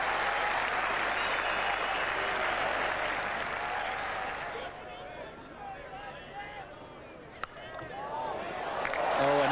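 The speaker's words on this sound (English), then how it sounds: "And still the crowd yelling 4" A cricket crowd at the 1981 England vs Australia fifth Test applauds and yells in a broad, distant roar that fades partway through and swells again near the end, with a commentator talking over it.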